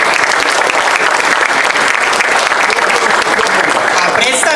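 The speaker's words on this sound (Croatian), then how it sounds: "Pozdravimo ga jednim aplauzom." Dense audience applause fills a hall at a gusle concert, loud and steady throughout, with a voice faintly audible beneath the clapping.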